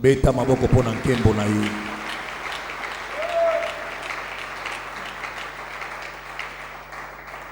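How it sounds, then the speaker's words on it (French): A church congregation bursts into loud applause and cheering, opening with a strong voiced surge over music-like tones, then settling into a broad, even wash of clapping and crowd noise that slowly softens. "Acclamons pour sa gloire"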